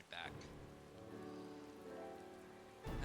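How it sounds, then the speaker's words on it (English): Rain in the video game Final Fantasy XIV falls as a steady soft hiss under a low game music drone, with brief brighter sound effects at the start and end. "And of course it's raining."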